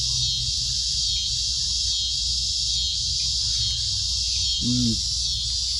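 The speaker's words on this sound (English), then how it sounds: "Cicadas, man, they're just making all kinds of noise." A constant, high-pitched insect drone of cicadas fills the air at a campsite throughout, with a brief low vocal sound near the end.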